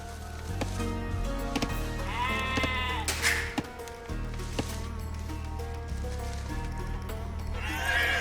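Sheep bleating in the Age of Empires II video game, several short wavering bleats over a busy game soundscape with hoof clops and other animal calls, fairly close.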